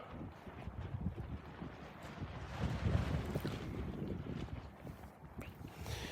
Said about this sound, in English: these things are starting to move a little bit with the wind as it picks up